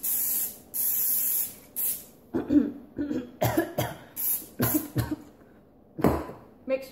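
Cooking spray hissing into a mug in repeated loud bursts, followed by several coughs and throat clearing nearby.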